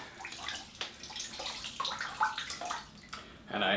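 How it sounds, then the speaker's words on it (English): A hand-washed shirt being wrung out in water, giving a run of splashes, drips and trickling water at close range, with a louder slosh toward the end. "After that is done, I wring it out thoroughly,"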